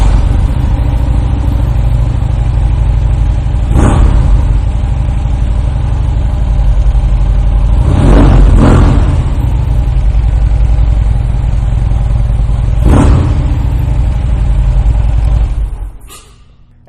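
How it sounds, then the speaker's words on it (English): A loud 2014 Harley-Davidson Dyna Low Rider engine with aftermarket exhaust idles with a deep, throbbing exhaust rumble, punctuated by a few brief throttle blips before it shuts off. "This exhaust sounds fantastic on this motorcycle."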